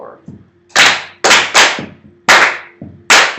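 Sharp, loud hand claps from a school band class rehearsing a rhythm, six crisp claps in uneven groups with short pauses between, close by, with a faint voice and a low sustained tone underneath.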